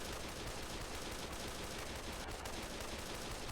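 Dense, continuous gunfire from Fallout: New Vegas, sustained loud shooting with no clear gaps between shots.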